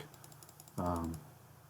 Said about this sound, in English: I can always kind of use the brackets on the keyboard to change the size real quickly